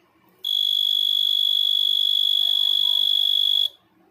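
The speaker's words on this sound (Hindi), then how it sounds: "दबाने के बाद भी एक बीप साउंड आता है और अपने आप बंद हो जाता है।" A sealing machine gives a single steady high-pitched electronic beep on its auto-cut, lasting about three seconds and then stopping, loud and clear over a quiet room.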